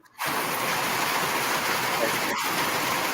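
Rain falling on a tin roof outdoors, a loud steady hiss of dense drops that rises abruptly near the start and runs on without pause, with a brief dip partway through.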